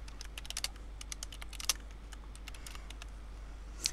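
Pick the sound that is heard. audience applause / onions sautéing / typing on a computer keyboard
typing on a computer keyboard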